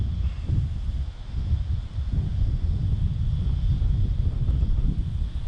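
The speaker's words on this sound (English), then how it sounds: "Bit windy. Hopefully the sound is not too bad." Steady, buffeting wind noise rumbling across the microphone on an exposed bushwalking summit, low and continuous throughout with gusty fluctuations and no voices.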